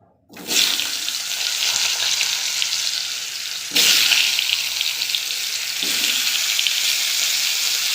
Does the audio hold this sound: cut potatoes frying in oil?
yes